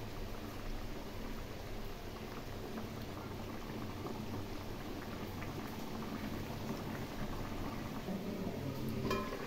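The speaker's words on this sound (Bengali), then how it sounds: "এখন ঢাকা দিয়ে 5 মিনিট মিডিয়াম ফ্লেমে রান্না করে নেব।" A covered pan of shrimp and pointed gourd curry simmers over a medium flame, giving a steady close bubbling and sizzling hiss that stays even and continuous throughout with no talking.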